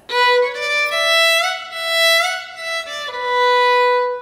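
Traditional Irish Swallowtail Jig on solo fiddle, sliding up into the first-finger note; a bright, close bowed line of smooth phrases with audible pitch glides and no voices.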